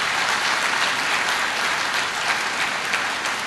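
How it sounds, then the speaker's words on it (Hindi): Loud, sustained applause from a graduation audience, a thick uniform wash of many hands clapping at once with no pauses. "ज़ोरदार तालियां तो बजाएं"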